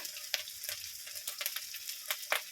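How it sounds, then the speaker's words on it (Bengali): Chilli powder, cumin and coriander paste sizzling in hot oil for a Bengali bata fish curry, a soft steady crackle with sharp spits and pops scattered through it. "লঙ্কার গুঁড়ো, জিরা ধনে একসঙ্গে আমার পেস্ট হয়ে আছে, আমি দিয়ে দিচ্ছি।"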